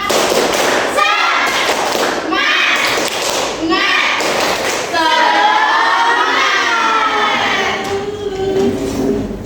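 Classroom of fifth-grade pupils doing rhythmic 'tepuk semangat' group clapping in bursts, with loud children's shouts and chanting over the claps, close and energetic throughout.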